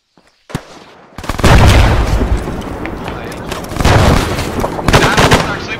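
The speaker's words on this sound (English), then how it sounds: "That was actually mortars." Mortar rounds land in a military video game, with heavy, booming impacts and crackling rumble after a short quiet opening. Loud blasts swell in several waves, mixed with bursts of gunfire and faint voices beneath.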